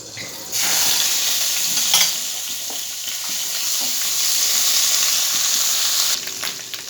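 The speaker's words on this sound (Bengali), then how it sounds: "তেলের মধ্যে প্রথমে আমি দিয়ে দেবো আদা রসুন পেস্টটা" Ginger garlic paste dropped into hot oil already spiced with garam masala, cinnamon and cloves bursts into a loud, close sizzle. The sizzle holds steady and then cuts off sharply near the end.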